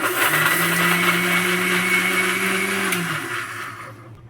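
A mixer grinder jar whirs steadily at high speed, grinding chutney ingredients for a spicy chutney omelette, loud and close for about three seconds before it winds down and stops.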